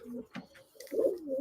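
Pigeons or doves coo in a video game zombie level, with soft, low, rounded calls repeating a few times at moderate volume and a brief higher chirp in between.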